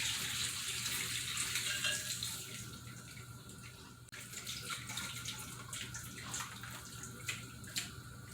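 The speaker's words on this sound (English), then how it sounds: "Now I can pick this up and just pour the rest of it in." Lamb stock poured from a pot through a fine mesh sieve set in a strainer, a steady close gushing trickle that thins briefly, then resumes with splashy spatters, no voices.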